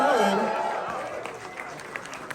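A camp audience gives a round of applause for Oak Brewing. A voice trails off at the start, then fairly loud mixed clapping carries on steadily to the end.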